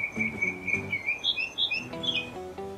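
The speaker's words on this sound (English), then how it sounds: "Let's hear them tweet." Cartoon birds chirp and tweet in quick bright bursts over a light, bouncy music bed in a children's learning show, several calls close together and fairly loud.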